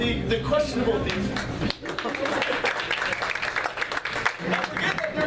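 Studio audience applause at a live evening show, a dense wash of clapping that starts at once, carries on steadily for several seconds and swells slightly with some voices mixed in.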